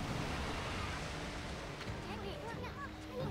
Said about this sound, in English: This swelling of the waves is a sign that it's coming.